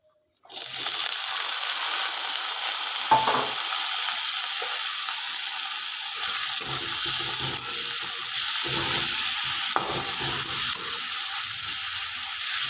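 Vegetables for veg chowmein hit hot oil with cumin seeds and burst into a loud, steady sizzle up close, broken by repeated scrapes and clacks of stirring in the pan.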